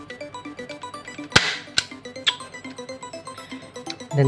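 A Smith & Wesson M29 toy air revolver fires two sharp, loud cracks close together, set against a steady rhythmic ticking of lighter mechanical clicks, close up and without talking.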